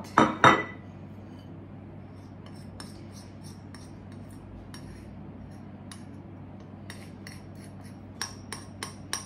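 Sugar clattering onto a plate in a home kitchen, a loud burst of clinking at the start, then quieter scattered ticks and small taps, with a few sharp clicks near the end and no voices.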